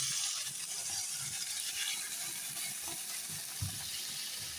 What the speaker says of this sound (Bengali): মশলা বাটিটা ধুয়ে আমি এখন এক বাটি জল দিই